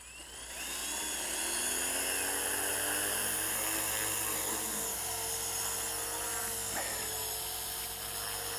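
A WLToys V950 RC helicopter flies nearby, its rotors and motor making a loud continuous high whine that rises after a moment and holds steady with slight pitch shifts.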